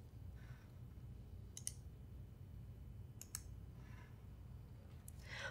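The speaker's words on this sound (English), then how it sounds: "We can kick it off again by right-clicking and selecting the Resume option." Mouse clicks on a computer, made while right-clicking a paused process to resume it in Process Explorer. Three or four sharp, faint clicks come spaced about a second and a half apart over a quiet background hum, with no talking.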